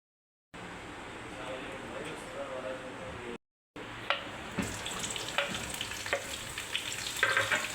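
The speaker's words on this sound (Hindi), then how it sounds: "पराठे बना रहे हैं हम, और उसके साथ ये हरी मिर्चें थोड़ी सी" Parathas frying with a few green chillies, a steady close sizzle from the pan that breaks off briefly and returns louder with crackles and spatter, with running water mixed in.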